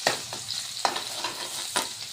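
Ginger garlic paste spits and sizzles among softened onions in a pan for steamed masala brinjal, a continuous hiss punctuated by three quick utensil strokes.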